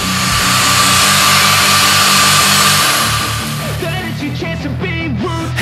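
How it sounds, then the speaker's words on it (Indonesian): A drill and grinder whine steadily at close range repairing a broken injector housing, the motor drone shifting partway through as the tool bites into material, with grinding and scraping textures. "Gunakan dua alat ini, bor dan gerinda."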